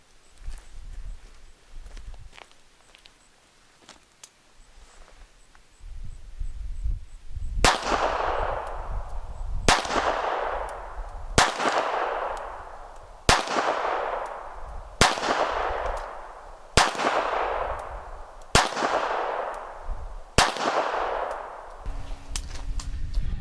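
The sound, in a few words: Rock Island Armory Baby Rock .380 pistol shots at 21 feet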